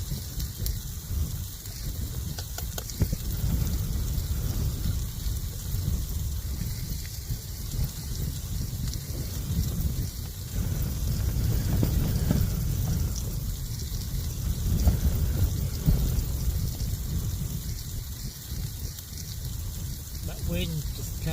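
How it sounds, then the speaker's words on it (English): Strong, high wind gusts buffet an OEX Bobcat 1 one-pole tent, a continuous low roar that swells and eases in waves throughout, with no other clear sounds. "Wind just comes and goes, but his tent's just not moving."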